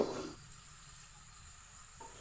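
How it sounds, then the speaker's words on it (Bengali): Prawns fry in a pan with a faint, steady sizzle after a brief louder burst at the start, quiet and close, with no talk. "চিংড়ি মাছগুলো ভাজা হয়ে গেছে এবার এগুলোকে তুলে নিচ্ছি"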